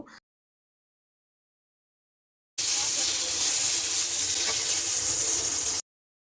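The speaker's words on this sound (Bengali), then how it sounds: "তো মাছটা ভাজা হয়ে গেছে এখন আমি তুলে নিচ্ছি মাছটাকে" Fish tails frying in a pan for a mashed fish-tail bharta, a steady, even hiss of sizzling oil that runs for about three seconds after a brief quiet start, with no talking.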